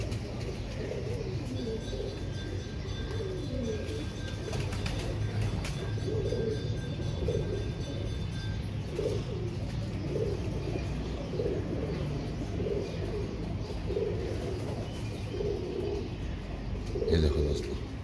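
A pair of Royal Teddy pigeons coo in soft repeated rounds close by, with a person talking over them at times.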